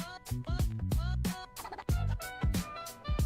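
A pet bird at home calls loudly and repeatedly, with harmonic squawking cries in quick bursts, close to the microphone and alone.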